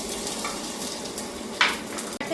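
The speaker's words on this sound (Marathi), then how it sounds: "ही आता हे जिरं मोहरी आपल्या टाकून झाले मी आता लसूण टाकते" Garlic dropped into hot oil already holding cumin and mustard seeds gives a soft, steady sizzle up close, with a brief clink of a utensil near the end and no talking.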